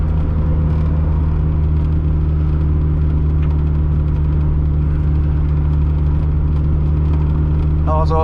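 A turbocharged 250 HP 1.6-liter Mazda Miata engine drones loud and close from inside the cabin while driving, with a steady low rumble and a constant hum and a few faint higher chirps near the end.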